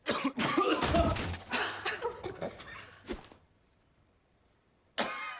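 Several harsh coughs in quick succession, close and loud, followed by a pause and then one more sharp cough.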